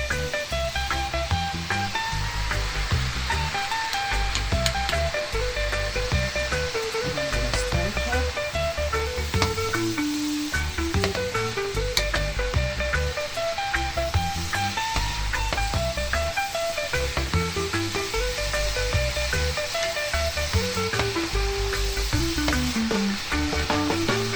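Saltfish fries in butter in a pan, giving off a steady, close sizzle and hiss that lasts throughout, with stirring and music playing along beneath.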